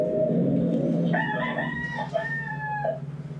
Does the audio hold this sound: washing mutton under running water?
no